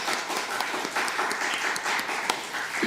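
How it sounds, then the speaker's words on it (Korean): A church congregation claps together in a sustained round of applause, dense and steady throughout, close and fairly loud, with no speech over it. "박수 한번 하겠습니다"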